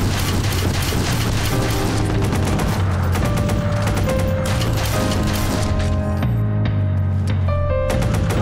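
Rapid gunfire from the U100 machine gun in Watch Dogs, continuous bursts layered over a loud game soundtrack and effects, dense and sustained throughout.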